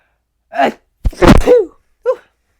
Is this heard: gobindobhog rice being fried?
no